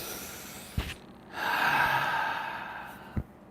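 One slow, deep breath drawn in and let out, soft and airy, framed by small mouth clicks just before and after in an otherwise quiet space.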